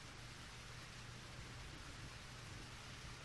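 Heavy rain pours down in the video game Eternal Sonata, a faint, steady, even wash of rainfall with no pauses and no voices.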